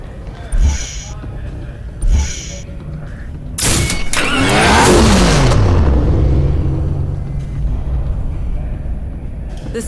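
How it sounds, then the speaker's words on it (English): Need for Speed Hot Pursuit game audio of a Ford sleeper sedan with a high-output EcoBoost twin-turbocharged engine: two short thumps, then a loud surge with a falling whine as the engine sound sweeps down, settling into a steady low drone. "The super high output of the EcoBoost twin turbocharged engine is what defines this sleeper sedan from Ford"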